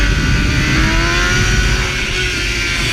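A motorcycle engine revs loud and close, a continuous throaty roar that rises steadily in pitch throughout, with no voices.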